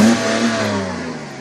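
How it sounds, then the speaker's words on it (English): A BMW E85 Z4 3.0i SE M roadster's free-revving 3-litre engine rises and holds in a loud, close, steady rev with a smooth, rich tone and no talk over it. "This absolutely gorgeous vehicle with that free revving 3-litre engine."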